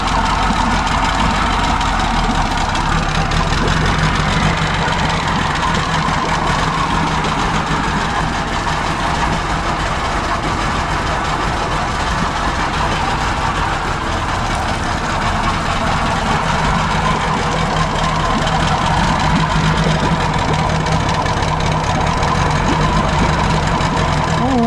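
A Mercury Classic 50hp outboard motor on a Bass Tracker boat idles loud and close, a steady rough low-pitched churn that holds unchanged for about twenty-five seconds.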